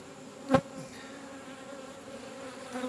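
Honey bees buzz steadily around an open hive during an inspection, a close continuous drone with one sharp louder burst as a bee passes near.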